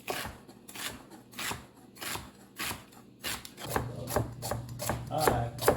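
Steady knife chops on a cutting board as vegetables are prepared for homemade beef stew, a regular rhythm of crisp strikes that grows slightly denser and louder toward the end.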